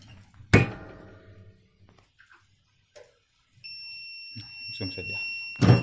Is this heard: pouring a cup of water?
no